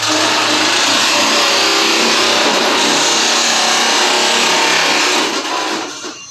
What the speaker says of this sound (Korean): 저희가 오토모드를 활용해서 한번 커팅을 해볼게요.